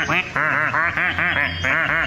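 Repeated duck quacks from a duck-collecting video game, a steady run of loud, close nasal calls about every quarter second, heard alone without talk.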